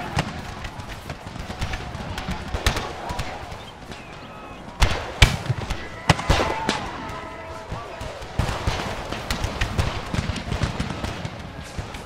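Scattered musket gunfire in an American Civil War strategy game, sharp cracks popping irregularly with a few louder bursts, layered over battlefield ambience and occasional voices.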